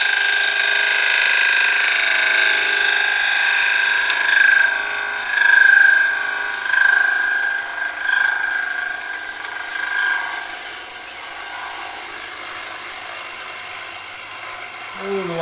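A bowl gouge makes a light, freshly sharpened cut into wood spinning on a lathe, giving a steady high-pitched whine with faint scraping that swells briefly and then fades, close by and without talking.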